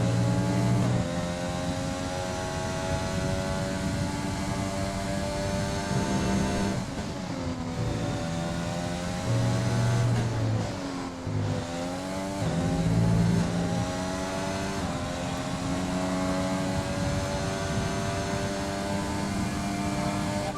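Steady high-pitched whine of a Formula One car engine in F1 2020 at the Austrian Grand Prix, holding a sustained harmonic drone with brief pitch dips and rises around gear shifts, loud and continuous throughout.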